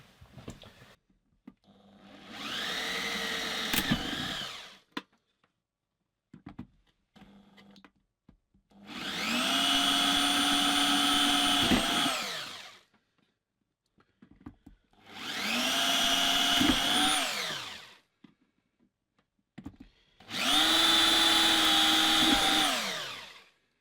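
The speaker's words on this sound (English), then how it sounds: "So just drill up those holes and get these screwed in." A handheld electric drill whirs in four separate bursts of a few seconds each, biting into plastic, with short quiet gaps and small clicks between runs.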